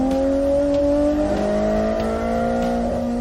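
A race car engine, the AZ85, revs loudly and steadily nearby, its strong harmonic tones rising and shifting in pitch over a continuous rumbling roar with no voices.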